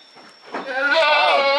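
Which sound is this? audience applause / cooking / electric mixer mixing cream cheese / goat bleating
goat bleating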